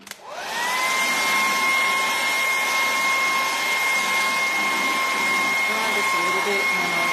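A hair dryer or heat gun runs steadily at close range, drying paint on a golden pine wooden crate being whitewashed, with a constant whirring blow and a high whine holding for several seconds.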